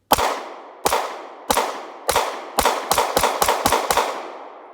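Ten rounds of Winchester hollow points fired from a pistol with a Ruger extended magazine, sharp cracks with ringing decay, first spaced evenly then coming in a fast string at the end, loud and close, no voices.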